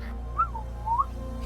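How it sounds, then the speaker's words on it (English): A slide whistle sound effect plays as two short gliding whistle tones, one rising and falling, then a second similar sweep, fairly faint over a low steady hum. "We get a slide whistle sound effect."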